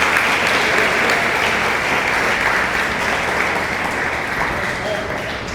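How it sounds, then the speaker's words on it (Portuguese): A church congregation applauds Jesus in sustained, dense clapping that stays loud and steady throughout, then eases slightly toward the end, with no other sound standing out. "Quem dá um aplauso ao Senhor Jesus?"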